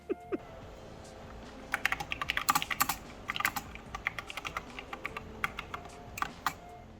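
Keys clacking on a Freewrite Alpha keyboard fitted with new keycaps, soft, close-up typing in irregular bursts of quick keystrokes at low volume.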